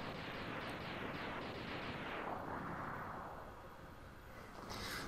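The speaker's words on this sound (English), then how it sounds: "Homing missiles work every time." Homing missiles firing in the Mega Man X video game, a dense, continuous rumbling blast of launches and impacts that holds steady for several seconds before briefly easing, loud and with no talk.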